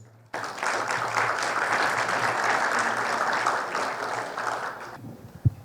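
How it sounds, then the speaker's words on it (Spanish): Loud, sustained applause from an audience at a legal seminar in Spanish, steady across about five seconds before cutting off, with a low hum underneath and a single sharp knock near the end. "Recibámoslo por favor con un fuerte aplauso"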